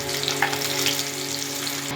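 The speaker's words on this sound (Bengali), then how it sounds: "মাছটা ভাজা হয়ে গেছে" Katla fish pieces fry in hot oil with a constant close sizzle and crackle, brief and unbroken, with no voices.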